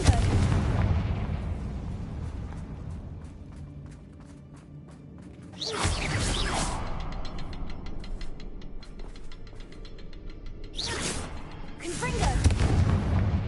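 Two loud, sharp blasts from the Confringo fire spell in the wizarding game Hogwarts Legacy, each a sudden explosive burst with a whooshing tail, separated by several seconds of quieter ambience and dialogue.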